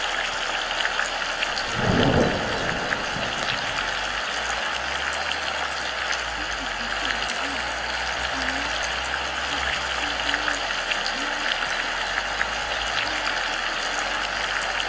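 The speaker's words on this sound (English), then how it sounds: "it's still raining out there" Constant hiss of steady rainfall in the game PlayHome fills the scene, with a brief louder splash early on and a low rumble underneath.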